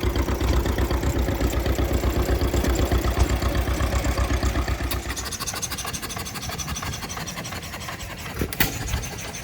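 A John Deere tractor engine idles smoothly and quietly at an outdoor show of vintage machinery, a steady low rumble that eases slightly softer partway through, with a couple of brief knocks near the end.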